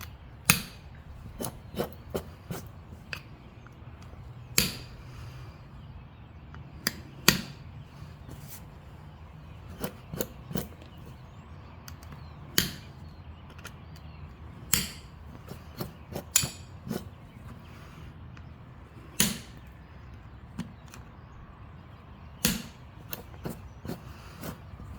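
Sharp stone-on-stone clicks ring out as flint is knapped into a dagger preform, with irregular single strikes and small clusters spaced a second or more apart across a quiet background.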